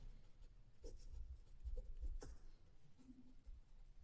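Pencil writing on paper while working a Class 10 maths linear equations problem, faint close scratching strokes with soft taps, quiet and without talk.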